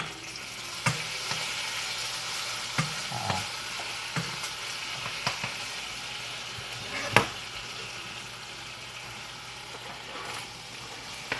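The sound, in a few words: vegetables stir-frying in oil in a wok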